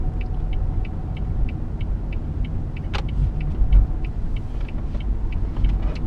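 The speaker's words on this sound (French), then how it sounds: "Le moteur se fait un peu entendre à l'accélération" A 2006 Renault Scenic 1.5 dCi 105 diesel heard from inside while driving: a steady low cabin rumble with road noise and faint ticking, fairly quiet and even.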